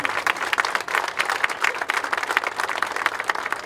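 Crowd at an outdoor rally in Bordeaux supporting the Rohingya people applauds a speaker, many hands clapping briskly and continuously at close range.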